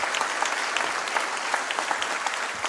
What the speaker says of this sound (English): It deserves a thunderous applause and a standing ovation.